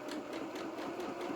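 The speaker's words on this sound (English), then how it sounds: "I'm just sewing on the seam allowance" A sewing machine runs a zigzag stitch along the seam allowance of a small doll shirt, a steady, close, fast mechanical whir with a light repeating pulse from start to finish and no talking.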